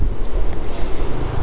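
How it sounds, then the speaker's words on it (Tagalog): Strong wind buffeting a microphone outdoors on a motorcycle trip near Baguio City, a loud continuous low rumbling roar throughout with no pauses. "Lakas ng hangin."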